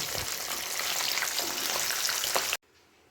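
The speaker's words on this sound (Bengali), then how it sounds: "হালকা করে মাছটা একটু ভেজে নেব" Hilsa fish fries lightly in a pan with a close, dense, even sizzle and occasional crackles for over two seconds, then cuts off abruptly to near silence.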